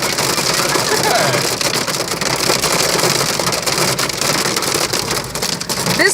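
Hail mixed with heavy rain hammers a car during a thunderstorm near Fort Ancient: a dense, loud, continuous clatter of hard impacts, steady from start to finish.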